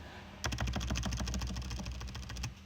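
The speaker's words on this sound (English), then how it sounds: "if you hear clicking, it's because I'm on this stupid trackpad" A rapid, steady run of light plastic laptop trackpad clicks, close and fairly quiet, continues for a couple of seconds with no talking.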